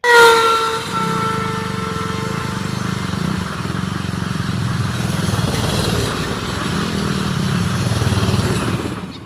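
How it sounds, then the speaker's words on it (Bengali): A train standing at the Lalbag Court Road station platform gives off a steady, loud mechanical rumble. Tonal horn-like notes ring out at the start and fade, and the din stays continuous throughout with no talking. "একটা ট্রেন ইতিমধ্যে এসে এখানে থেমেছে।"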